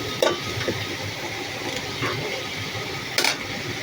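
Prawns and cabbage greens fry in a pan with a low steady sizzle, punctuated by a few brief sharp clatters and scrapes from stirring, close by and without speech.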